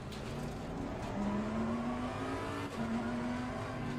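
A GT race car engine droning in the racing game Assetto Corsa Competizione, a steady loud tone that rises slowly in pitch as the car accelerates, with a brief dip near the end.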